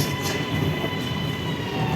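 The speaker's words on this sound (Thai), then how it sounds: "รถไฟฟ้ามาแล้ว" Steady loud rumble and hiss of an underground subway train arriving at a station, with a faint metallic whine over the continuous rail noise.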